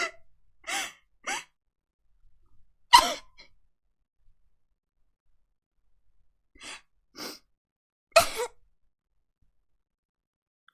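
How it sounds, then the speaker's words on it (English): A person's sharp sneeze bursts out between short gasps and breaths, isolated puffs separated by stretches of silence, close and fairly loud with no talking. "I just want to sneeze"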